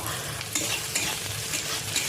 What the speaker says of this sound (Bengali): সব মিলিয়ে একটু নেড়ে ছেড়ে নেবো,